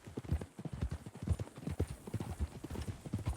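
Horse hooves clip-clop steadily in Red Dead Redemption II, a quick, close, uneven rhythm of soft thuds that runs throughout.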